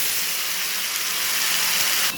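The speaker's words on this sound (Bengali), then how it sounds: "এখন আমি দিয়ে দিব সেই চিচিঙ্গাগুলো।" Chopped snake gourd hits hot oil tempered with black cumin, giving a loud, steady, close sizzle that hisses evenly throughout and cuts off abruptly at the end.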